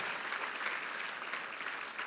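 A church congregation applauds in a continuous, dense wash of clapping that holds steady for the whole stretch, moderately distant and without speech over it.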